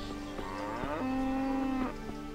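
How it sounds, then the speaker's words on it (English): A cow in the medieval video game Kingdom Come: Deliverance gives a single long, close, loud moo that holds steady for about a second over background game ambience. "And the cow agreed."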